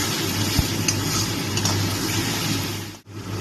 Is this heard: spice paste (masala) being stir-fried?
yes